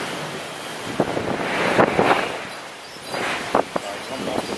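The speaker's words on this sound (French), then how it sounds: "on devrait commencer à entrer dans le dur du cyclone" Strong cyclone wind roars steadily through a street strewn with torn-off branches, with louder gusts buffeting the microphone and rising and falling over a few seconds.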